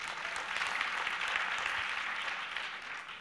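Audience applause fills a hall during an anniversary advocacy event, a steady dense wash of clapping from many hands that holds at an even level for a few seconds.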